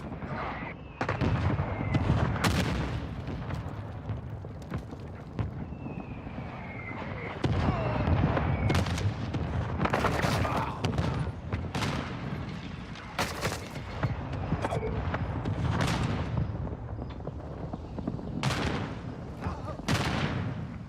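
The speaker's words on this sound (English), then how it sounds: "Friendly mortar strike inbound." Friendly mortar strikes in Call of Duty Modern Warfare II land as a series of deep, booming explosions at irregular intervals, mixed with scattered gunfire and game chatter across the stretch.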